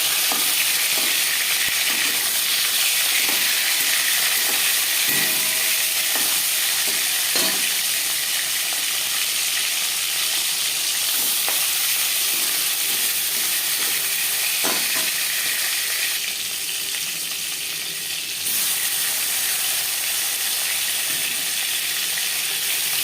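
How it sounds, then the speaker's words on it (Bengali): Catla fish pieces rubbed with salt and turmeric frying in three spoons of hot mustard oil, giving a steady, close, continuous sizzle and hiss with occasional spatters and no talking. "3 চামচ সরষের তেল গরম করে নেওয়ার পর দিয়ে দেবো লবণ হলুদ মেখে রাখা মাছ"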